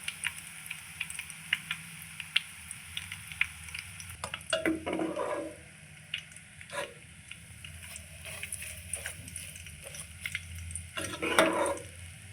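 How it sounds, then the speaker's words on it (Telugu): Gongura leaves fry in oil in a pot for pickle, with a faint, low sizzle in the background broken by scattered clicks and a few louder stirring scrapes. "గోంగూర ఫ్రై అయింది కదా ఈ గిన్నెలోనే"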